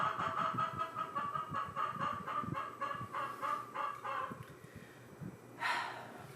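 Several chickens cluck in a rapid, repeated series of calls, fairly close, ending with a louder squawk near the end.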